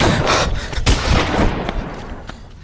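Rapid bursts of gunfire from a gun in a 1947 village setting, loud crackling shots in a dense volley that thins out toward the end, with no talk over it.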